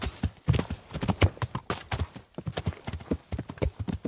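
Horse hooves clip-clopping up a steep hill in Kingdom Come: Deliverance, a steady run of close, loud hoofbeats in uneven rhythm with a brief pause partway through.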